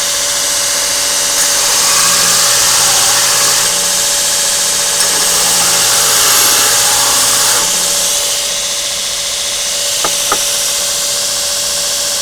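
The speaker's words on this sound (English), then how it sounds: "I disc sand everything to a pretty high, so it ends up really nice and flat." Disc sander flattening a steel knife blade in a bladesmith's shop gives a steady, loud electric motor whine with a broadband grinding hiss that holds for about twelve seconds, briefly easing near the end.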